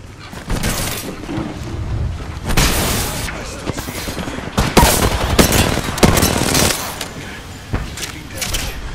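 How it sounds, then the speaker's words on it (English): Rapid bursts of gunfire from an Apex-style battle royale firefight crack out repeatedly at fairly close range, with loud booming shots clustered through the middle, under frequent excited talk from players. "Someone's shooting behind us."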